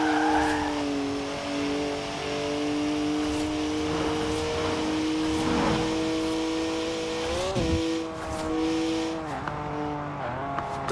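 BMW 1M with a 3-litre twin-turbo straight-six making 335 horsepower, driven in Forza Horizon 4: a loud, sustained engine drone holding steady revs, then a brief lift and shifts near the end, with faint tire noise underneath.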